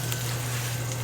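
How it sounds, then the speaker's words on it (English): Spices sizzling as they stir fry in hot avocado oil for a Mapo tofu base, a steady close frying hiss with a low hum underneath and no talk. "I'm just gonna put in some avocado oil, and just pour in the spices, and then stir fry them for"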